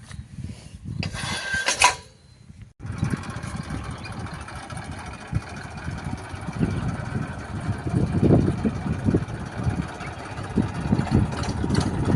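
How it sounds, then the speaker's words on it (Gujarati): A tractor engine rumbles low and steady as it arrives for sowing, near and continuous, with a brief mechanical clatter and rattle before it settles into a running drone. "આપણું ટ્રેક્ટર અહીં આવે છે"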